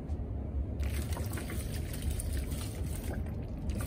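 Water is poured onto a potted flower, a steady trickling and splashing that runs the whole time at moderate level and is fairly close, with broadband noise and no talking.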